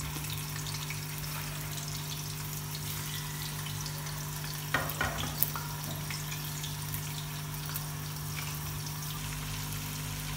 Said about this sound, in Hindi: मछली डाल देंगे फ्राई करने के लिए।